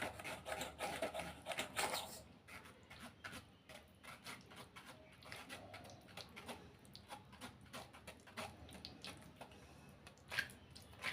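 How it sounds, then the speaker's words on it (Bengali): Boiled raw mango pulp pressed through a sieve by a ladle turned round and round, giving close, soft rubbing and rasping scrapes with wet squishes in an uneven, continuous rhythm, no voices. "এবার হাতার সাহায্যে এবার ঘুরিয়ে ঘুরিয়ে আমি আমের পাল্পটা বের করে নিচ্ছি।"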